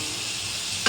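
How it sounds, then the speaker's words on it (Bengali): Ingredients for a Bengali fish curry frying in oil give a brief, steady hiss and sizzle, ending in a sharp stirring scrape. "আমি একটু নাড়বো চালবো, একটু ভাজা ভাজা হওয়া পর্যন্ত অপেক্ষা করবো"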